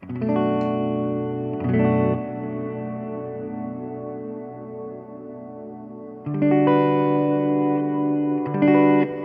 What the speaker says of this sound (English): you can hear with the enormo hall that there's a lot more reverb sustain